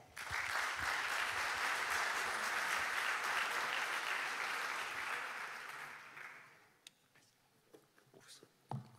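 An audience applauds the economy minister at an innovation event in Chile, a loud, dense clapping that holds steady and then fades out, leaving a few scattered knocks and rustles.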